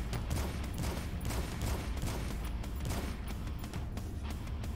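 Faint, steady rattling turret gunfire in a horror video game, with rapid repeated shots running throughout under a low background rumble.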